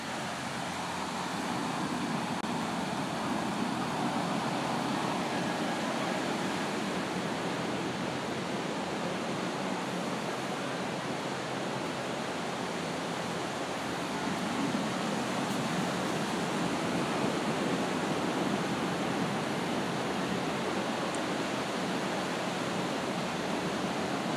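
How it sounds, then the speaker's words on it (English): Ocean surf breaks at the beach beside the US/Mexico border in Tijuana, a steady broad wash of waves rolling in continuously and fairly loud, with no talking. "I'm gonna get really close to the ocean."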